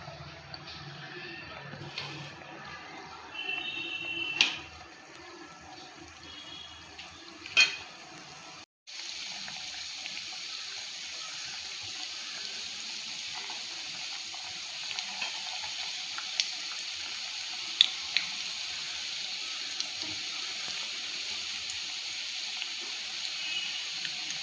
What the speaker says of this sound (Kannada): ಇವಾಗ ಆಯಿಲ್ ಬಿಸಿ ಆಗಿದೆ. ಉಂಡೆ ಕಟ್ಟಿ ಇದನ್ನು ಹಾಕೋತಾ ಇದ್ದೀನಿ ನೋಡಿ.